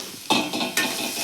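Onions hit hot oil in a pan for a Telangana-style fish curry with a loud hissing sizzle. Two more bursts of sizzle and stirring follow in quick succession, close up, with no voices.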